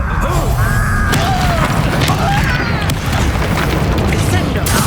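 A Confringo fire-blast spell in Hogwarts Legacy goes off with loud, rumbling booms layered over dense game effects and whooshing magic, continuous and close for the whole few seconds.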